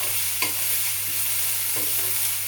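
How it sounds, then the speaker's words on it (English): Chopped aubergines and peppers frying in a pan, stirred with a couple of distinct scraping strokes over a steady, close sizzle, no voices. "Stir it for about 3 or 4 minutes."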